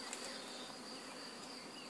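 A swarm of honeybees being captured, a continuous dense buzzing hum, faint and steady with no pauses.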